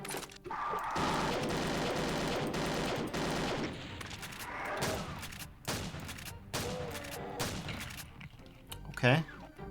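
Chain gunner enemies firing in a jungle shooter game, long bursts of rapid automatic fire with thuds and crashes, loud and sustained, easing into scattered shots with a voice speaking near the end.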